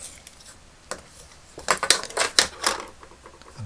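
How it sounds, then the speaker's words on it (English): A knife snipping through PTFE plumber's tape during a vintage Kenner 12-inch R2-D2 toy repair: a few small crisp clicks and scraping ticks, close and fairly quiet, clustered in a short burst with no talk. "Again, just cut it with a knife."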